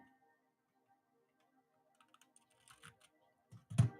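Keys on a computer keyboard click faintly and sparsely at first, then come in a few louder close taps and clacks near the end.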